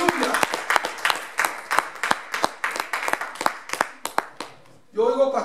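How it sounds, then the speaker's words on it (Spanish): A church congregation at a Pentecostal service claps loudly in a series of sharp, uneven bursts, after which a voice breaks in near the end. "¿Cuánto le da un aplauso fuerte al Señor?"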